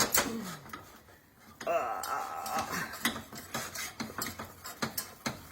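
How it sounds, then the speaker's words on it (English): Choux pastry dough being whisked in a pot, with rapid, repeated metallic scraping and clicking of the whisk against the pot, close and rhythmic, while someone talks intermittently over it. "Okay, I have to just keep whisking."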